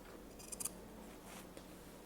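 Scissors snipping through fabric to cut out rectangles for a tote bag: a few quick, faint crisp snips clustered together, then a softer slicing pass and one last small click in a quiet room.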